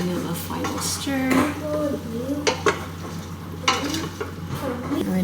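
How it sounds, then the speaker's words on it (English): Softened peppers and onions stirred in a pan, with scraping and clinking of a utensil against the pan over a light sizzle, a few sharper knocks, and talk heard briefly alongside. "Give them a final stir."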